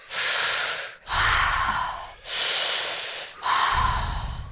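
Deep breaths in and out through the mouth during a breathwork session, four long airy breaths in a slow, steady rhythm, close and clear with no talking.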